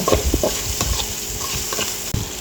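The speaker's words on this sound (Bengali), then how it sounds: "এগুলোকে নেড়ে চেড়ে কিছুক্ষণ ভেজে নেব" Chopped tomatoes fried and stirred in a pan for egg soup: loud, close sizzling with repeated spoon scrapes and knocks against the pan, no voices.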